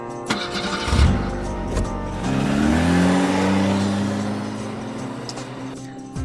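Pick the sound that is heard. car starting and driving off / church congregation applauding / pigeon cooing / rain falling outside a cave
car starting and driving off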